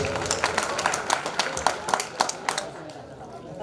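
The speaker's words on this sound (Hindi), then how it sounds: "एक बार जोरदार तालियां" Applause and clapping from an audience at a Hindi kavi sammelan poetry recital, a dense run of claps with sharper peaks, fairly steady and near, with some crowd chatter mixed in.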